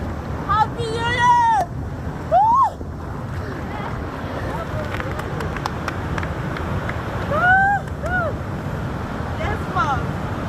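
A small waterfall rushes in a constant broad wash during a winter cold-water swim, while people talk and call out over the water noise.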